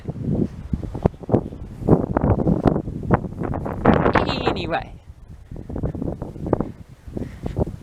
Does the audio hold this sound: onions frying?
no